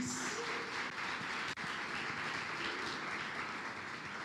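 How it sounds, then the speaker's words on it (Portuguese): A church congregation applauds the Lord Jesus in a faint, distant, continuous patter of many hands clapping, steady throughout with one brief break. "Se você crê, aplauda o Senhor Jesus."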